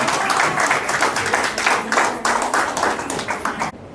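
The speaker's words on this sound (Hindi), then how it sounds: "प्लीज उनके लिए जोरदार तालियां बजाइए" Dense applause from an audience at a haldi ceremony performance, steady and close, with brief dips between bursts of clapping.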